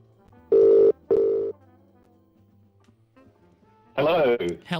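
On a radio broadcast, a telephone line connecting to a live caller gives two short, loud ring tones, then a pause and a voice speaking over the line.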